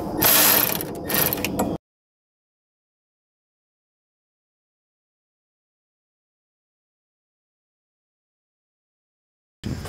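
Ratchet wrench clicking while loosening 10 mm hose clamps on a 2002 Lexus RX300, a short burst of close, sharp ratcheting at the start, then silence until a brief return at the very end.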